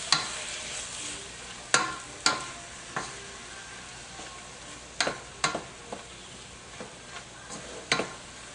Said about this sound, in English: We'll start to combine all those flavors together and stir fry them together.